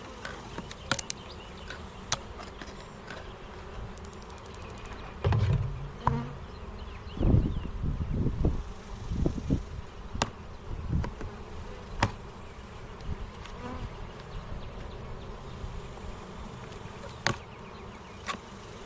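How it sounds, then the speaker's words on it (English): Cranky honeybees, shut in for several days, buzz in a steady, agitated drone, with sharp clicks and knocks scattered through it. "These bees are a bit cranky"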